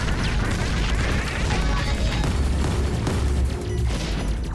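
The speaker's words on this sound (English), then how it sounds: "It's like fireworks going off." Loud, dense bursts of explosions in the Resogun video game on PS4, a continuous crackling barrage like fireworks going off, with booms and smashes piling up without pause.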